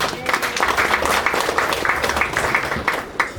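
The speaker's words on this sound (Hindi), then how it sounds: "जोरदार ताली हो जाए।" Guests at an engagement party clap in a moderately loud round of applause, with a few sharper claps standing out and some crowd murmur mixed in.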